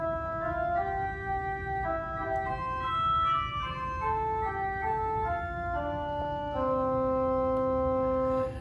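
A bright, reedy pipe organ cornet stop combination plays a slow melody of sustained notes, steady and alone with no voices.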